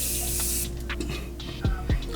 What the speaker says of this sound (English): I'm going to spray one side and get started